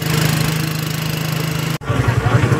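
A motorcycle engine putters nearby at a steady, fast idle, cuts out briefly, then runs again with a lumpier, pulsing note as guests ride home.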